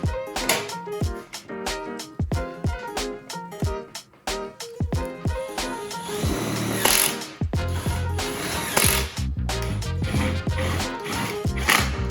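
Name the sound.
screws being drilled into carbon grille mounting tabs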